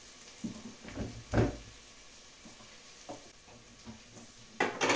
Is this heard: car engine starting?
no